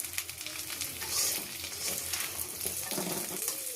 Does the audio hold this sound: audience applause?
no